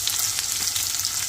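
Two sprigs of curry leaves crackle and sizzle in hot oil in a pan, a steady, dense frying hiss that stays loud and close throughout with no voices.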